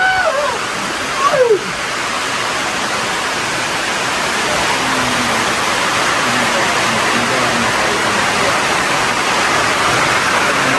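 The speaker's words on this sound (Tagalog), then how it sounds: "Grabe yung ulan kaya ilipat namin trapal." Heavy rain pounds steadily on a tarp at a mountain campsite, a constant dense hiss with a brief voice near the start.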